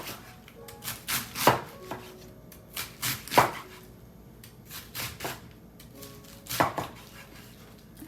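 A knife shreds cabbage thinly for coleslaw on a board, making crisp, close chopping strokes in irregular bursts with short pauses between them, and no voices.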